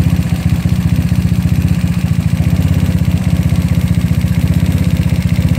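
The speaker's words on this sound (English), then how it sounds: "Engine sounds a little bit more calmer." GY6 scooter engine running with a 30mm carburetor being tuned, a steady fast low putter with even pulses, close and loud, idling smoothly throughout with no talk.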